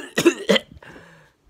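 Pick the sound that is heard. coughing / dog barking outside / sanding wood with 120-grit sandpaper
coughing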